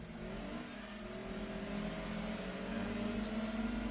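A black Daihatsu Sirion's engine hums steadily in Gran Turismo 2 during a long circuit race, a continuous drone that slowly rises in pitch as the car accelerates.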